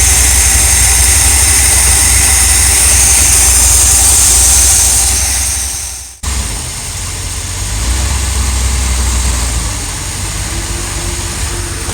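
An RV engine runs steadily after a repair, a loud continuous idle that cuts out briefly around the middle, then resumes with a slightly uneven, surging tone.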